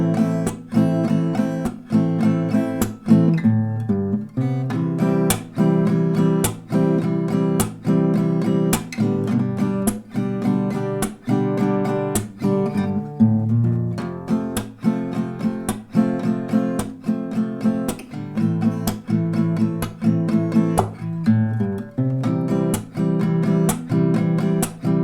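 Acoustic guitar plays a song at a slowed tempo, with a steady run of strummed chords and plucked notes, close and clear, with no voice.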